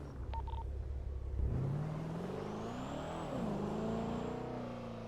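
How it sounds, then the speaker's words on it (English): A Dodge Charger engine in a video game revs and drones steadily, pitch rising and dipping as it accelerates, loud and continuous with a brief high whine overhead. "The Charger engine sounds are loud."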